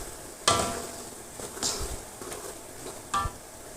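Ground spices such as cumin, coriander and turmeric sizzling gently in oil in a home kitchen pan, with a few sharp scraping stirs and utensil knocks against the pan over a low, steady frying hiss.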